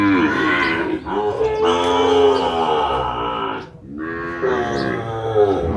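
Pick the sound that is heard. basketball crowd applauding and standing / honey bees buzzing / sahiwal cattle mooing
sahiwal cattle mooing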